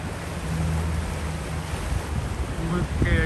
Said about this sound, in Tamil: ரொம்ப தண்ணி அதிகம், நிறையா தண்ணி